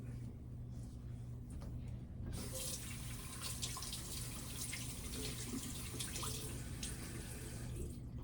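Water running steadily from a tap into a sink while hair is being wet in the morning, starting a couple of seconds in as a soft continuous hiss that lasts to the end, faint and close.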